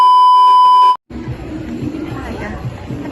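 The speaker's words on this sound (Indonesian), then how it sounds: "Tadi ada notif." A phone notification beep sounds as one clear, sustained tone lasting about a second, then cuts off abruptly. Background chatter of voices follows.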